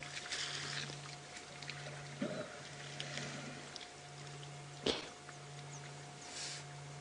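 A wild animal at a waterhole laps and sucks up water, faint close slurps and a few brief splashes over quiet background with a steady low hum, one sharper splash standing out midway.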